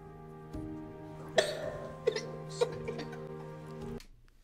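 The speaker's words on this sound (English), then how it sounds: "He just started coughing." A boy coughs in a played-back video, a few short coughs and throat sounds heard over a steady tonal hum from the playback, moderately faint.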